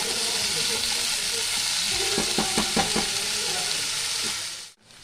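Potatoes frying in a pan and being stirred, a continuous close sizzle with a quick run of rhythmic stirring scrapes midway before cutting off, no talk.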